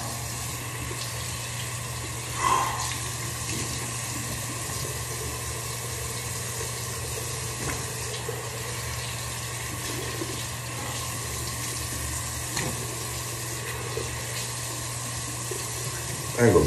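Tap water runs steadily into a sink on a college morning, a continuous close splashing hiss under a low hum, with no voices heard.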